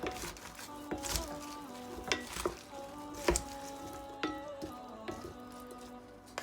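Grated coleslaw vegetables mixed with dressing make soft wet squelches and scrapes of a spoon against a bowl, with intermittent clinks, close and fairly quiet.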